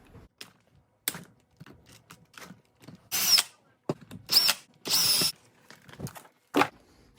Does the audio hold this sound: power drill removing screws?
yes